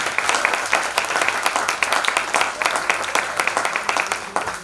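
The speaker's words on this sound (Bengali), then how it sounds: "এবারে সকলের জন্য একটা জোরে হাততালি।" Audience at a school cultural programme breaks into a steady burst of applause, dense overlapping claps continuing throughout at close range with no talking.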